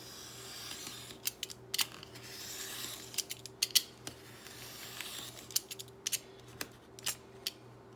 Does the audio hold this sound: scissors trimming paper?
yes